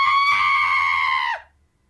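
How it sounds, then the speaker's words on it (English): A short, high electronic shriek in the style of the R2-D2 scream sound effect holds a steady, harmonic-rich tone for over a second, then slides down and cuts off into near silence. "That sounds like the R2-D2 scream"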